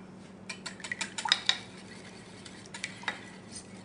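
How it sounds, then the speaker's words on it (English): Three eggs are whisked into buttermilk, vanilla and canola oil for orange cranberry muffins, a quiet run of quick clicking whisk strokes against a bowl, in bursts with short gaps, close and fairly soft. "To this, I'm gonna whisk in 3 eggs,"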